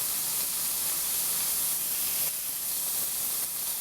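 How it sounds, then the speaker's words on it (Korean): Pork slices grill in a pan with a steady, loud, even hiss and sizzle that runs unbroken and close throughout, with no voices over it. "돼지고기는 다 익어야 먹기 때문에 다 완전하게 익혀주세요"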